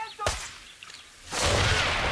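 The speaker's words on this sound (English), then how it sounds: "That was a big explosion." A video game explosion on a tropical island battlefield: a sharp blast hits early, then a loud, broad roaring burst swells and holds to the end, dense and close.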